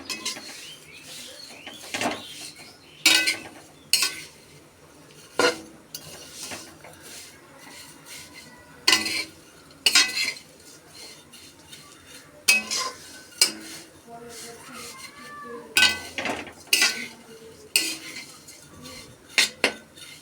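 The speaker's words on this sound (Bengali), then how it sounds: "ঘিতে লাচা সিমইটা ভেজে নেব একটু" Repeated scraping and clinking of a spatula stirring lachha vermicelli frying in ghee in a pan, in short irregular bursts over a quiet background with faint sizzling.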